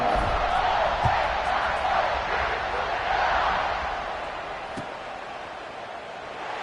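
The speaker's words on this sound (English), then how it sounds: "this crowd now ready to get behind them." Football stadium crowd at kickoff, a broad, steady roar of many voices that holds loud, then eases off slightly toward the end, with scattered shouts inside the wash of noise.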